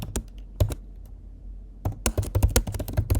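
A password is typed on a Mac computer keyboard as crisp, close key clicks: a few isolated taps, a short pause, then a quick irregular burst of keystrokes.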